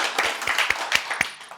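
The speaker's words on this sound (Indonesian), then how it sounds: "Tepuk tangan dong." Audience clapping in an Indonesian TV talk-show studio, a short burst of scattered, fairly close claps with an irregular rhythm, no talk over it.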